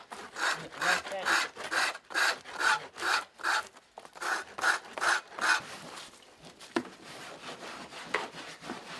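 Rhythmic back-and-forth rubbing on the bottom of a hard-bottom mukluk, about a dozen firm strokes in steady succession, then a looser patch of scraping and handling near the end.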